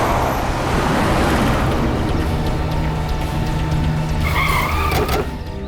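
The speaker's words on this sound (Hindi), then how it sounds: "भगाओ गाड़ी" A car speeds off with tyres skidding on the road, a loud, sustained roar of engine and rubber that swells and holds for several seconds before easing slightly at the end.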